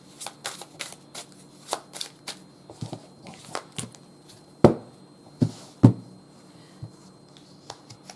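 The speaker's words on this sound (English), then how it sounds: "Let me get my tarot." Tarot cards are shuffled by hand in a series of quick, soft riffles and taps, some sharper snaps standing out, close and fairly quiet with no talking.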